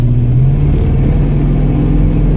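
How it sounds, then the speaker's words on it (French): A 1969 Ford Mustang with a 351ci V8 pulls away, its loud, steady low engine drone rising slightly under load, close and continuous with no talk over it. "on est parti dans la Mustang de Manu."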